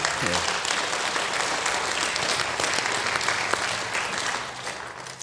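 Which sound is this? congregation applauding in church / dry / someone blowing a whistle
congregation applauding in church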